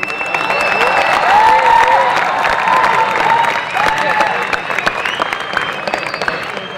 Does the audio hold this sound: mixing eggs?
no